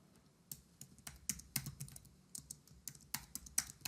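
Typing on a computer keyboard, a run of separate key clicks in an uneven rhythm, close and fairly quiet, with no voices.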